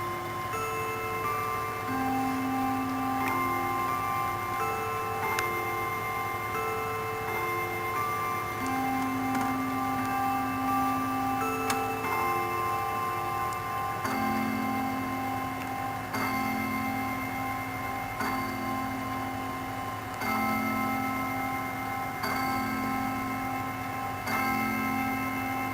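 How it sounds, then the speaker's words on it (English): A mantel clock ticks steadily and evenly throughout, its regular ticks sitting over a faint constant hum with soft tonal chirps in the background. "This sounds a lot like a mantel clock that my dad had when I was a kid."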